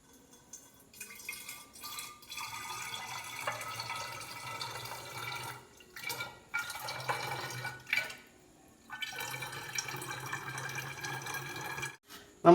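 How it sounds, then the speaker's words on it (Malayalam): Homemade coconut water toddy mixture, sweetened with sugar, is poured into a bottle in several short bursts of trickling, splashing liquid separated by brief pauses, heard close and fairly quiet. "നമുക്കിതിനെ ഒരു ബോട്ടിലേക്ക് ആക്കി വെക്കാം."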